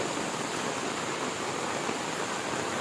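Rainwater runoff from the road above pours down into a yard during a rainstorm, a continuous, even rushing of water that stays close and steady throughout, with no voices.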